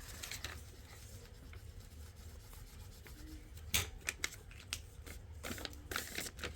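Scissors snipping paper to cut out snowman snowflakes, faint close snips and rustling of paper in irregular quick bursts, no talking.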